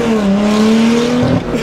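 Lotus Exige 350 Sport engine pulling hard through first and second gear, a loud, close, rising rasp with a brief dip and jump in pitch at the upshift, heard alone.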